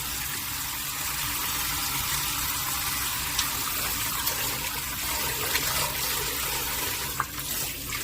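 Tap water runs steadily into a sink while fresh perilla leaves are rinsed under it, a continuous close hiss with no talk.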